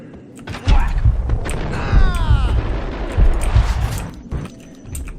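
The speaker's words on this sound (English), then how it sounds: "Shotgun this time." Max Payne shotgun blasts thud out in several loud, heavy bursts spaced about a second apart, mixed with game clatter and a brief high ricochet-like whine.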